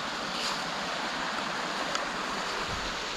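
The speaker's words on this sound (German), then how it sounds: "hier ist ein Bach und von der anderen Seite kommt auch ein Bach." A stream flows under a small footbridge where two brooks meet on a forest trail, giving a steady, broad rushing babble with no voices.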